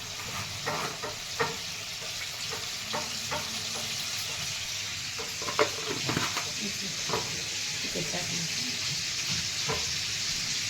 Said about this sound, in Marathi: एकदम लाल लसूण होऊन द्यायचा, चरचर झाला का नाही, नंतर मग भाजी ओतून घ्यायची.